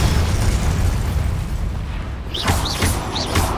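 Fiery Confringo spell blasts in Hogwarts Legacy, a dense rumbling explosion wash with a few sharp crackling bursts near the end, loud and continuous.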